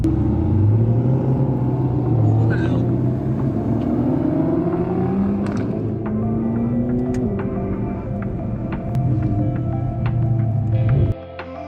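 A group of Audi R8s cruises along the road on a morning drive, and a loud, close engine rumble rises and falls in pitch with shifts. Tire and road noise sit under it before it cuts off sharply near the end.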